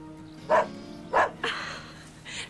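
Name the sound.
dog barking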